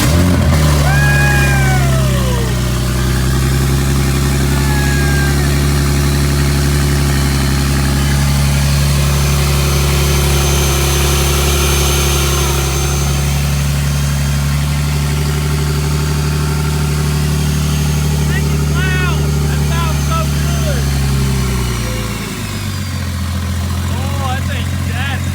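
A rebuilt, previously wrecked 2023 BMW M3 engine cranks and catches, then settles into a loud, steady idle with a deep rumble, with a brief dip near the end, while people talk and react over it.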